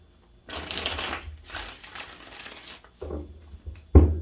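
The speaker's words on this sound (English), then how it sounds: "I'm going to give this 3 shuffles, Virgo." Tarot cards shuffled in several quick riffling bursts, crisp and close, with brief pauses between and a sharp tap at the end.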